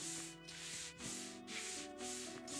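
Cleaning sound effect in the Tavern Manager Simulator video game: a quiet, rhythmic rubbing and scrubbing swish repeating about every half second, faint and steady with no talk.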